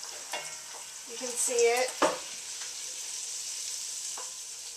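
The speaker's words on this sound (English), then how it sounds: "My onion has been cooking and is nice and soft." Half an onion softening in a pan makes a faint, soft sizzle beneath a brief spoken remark, with a couple of light clinks and a utensil stirring at the midpoint.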